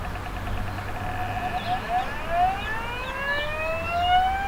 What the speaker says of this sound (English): That siren going off is indicating that hydrogen has been detected.